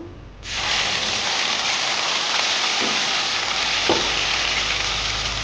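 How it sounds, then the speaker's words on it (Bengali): Black cumin and a prepared spice paste hit hot oil in a wok and burst into a loud, steady sizzle. A couple of faint stirring knocks sound under the continuous frying hiss. "আমি কড়াতে তেল দিয়েছি, একটু তেল বেশি লাগবে তেল করতে। তো দিয়ে দিব কালো জিরা, আর এখানে করে রাখা মশলাটা দিয়ে দিব।"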